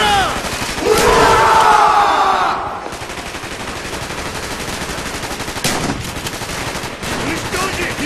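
Automatic gunfire and shooting in the Call of Duty Black Ops video game on Xbox 360, loud and sustained across a battle, with crowd-like shouting and battle cries mixed in and a brief drop-out partway through.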